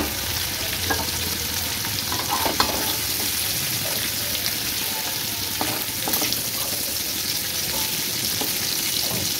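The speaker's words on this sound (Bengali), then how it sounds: "চিংড়ি মাছটা খুব বেশি ভাজবো না, হালকাই ভাজবো" Shrimp frying lightly in hot oil for a Bengali mulor ghonto, a steady dense sizzle with occasional spatters and stirring clicks, close and continuous with no talk.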